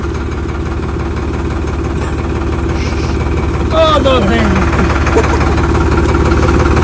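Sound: tractor engine idling

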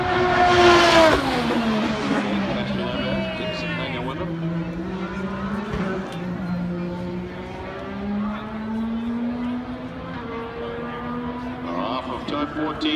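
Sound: IndyCar race cars at Indianapolis Motor Speedway

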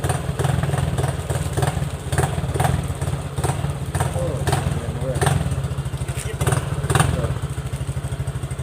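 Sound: Honda Click 150 motorcycle engine running

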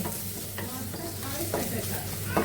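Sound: eggs frying with sausage in a pan

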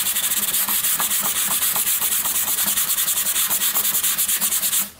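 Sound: sanding Bondo filler on wood

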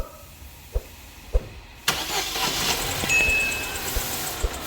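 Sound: car engine running rough with burnt valve

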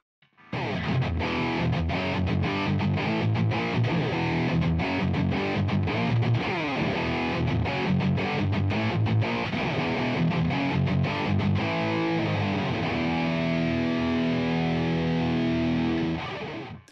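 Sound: distorted electric guitar, AmpliTube preset

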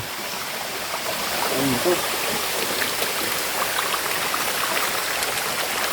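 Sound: flowing stream near a cave tunnel

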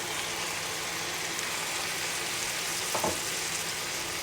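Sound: squid and shrimp frying in a hot pan

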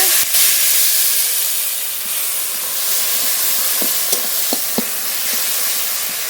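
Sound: frying spice paste (masala) in oil for rohu fish curry

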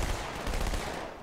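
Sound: gunfire in Halo 2 video game

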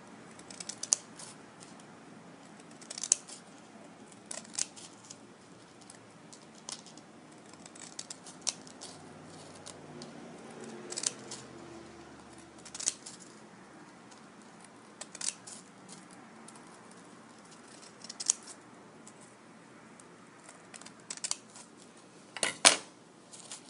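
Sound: scissors cutting paper into grass strips

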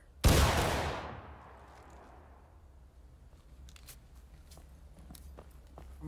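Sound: musket volley fired in War of Rights video game

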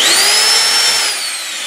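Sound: power drill running in reverse

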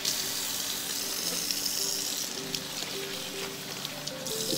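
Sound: tap water rinsing lace frontal wig with cold water

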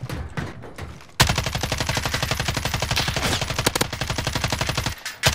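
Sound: gunfire in Call of Duty Warzone video game

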